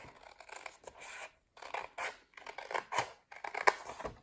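Scissors cut through paper for a handmade sunflower gift box, with short close snips and rustling rubbing in several bursts separated by brief silences.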